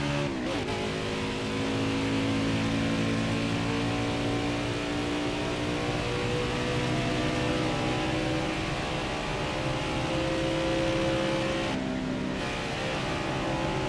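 A stock car engine in NASCAR Heat 5 at Atlanta climbs up through the gears. The loud, steady whine rises in pitch and drops briefly at each shift, close and continuous, with a sharp shift near the start and another near the end.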